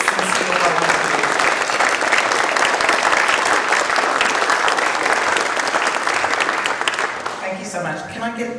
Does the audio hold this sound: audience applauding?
yes